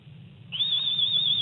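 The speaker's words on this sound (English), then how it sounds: "a stranger whistling in the background" A man whistles in the background during a morning radio show, one steady high note with a slight waver that starts halfway in and holds to the end over a low hum, with no talking.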